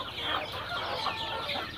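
Native Bisaya chickens on a Philippine backyard farm, clucking softly and repeatedly in a close, steady chatter of overlapping calls, with no talking.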